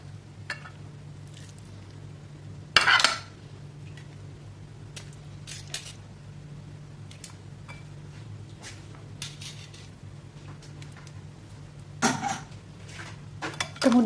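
Utensils scrape and clink against a bowl as noodles are stirred with soy sauce and chicken broth, quiet scattered taps with a few sharper clatters.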